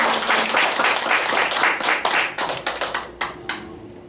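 A church congregation claps together to welcome returning guests during a Sunday service, a dense burst of applause that thins into scattered, separate claps near the end.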